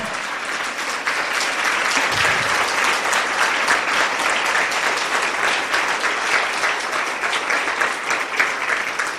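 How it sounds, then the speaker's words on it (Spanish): Loud, sustained applause from a church congregation fills the space evenly from start to finish, a dense wash of many hands clapping at once with no talk over it. "Dale el aplauso fuerte al Señor."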